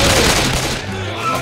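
Friendly-fire gunshots in the zombie shooter Left 4 Dead 2: a dense, loud burst of gunfire and booms that fills the opening moment, then continues a little lower, with game noise and voices around it.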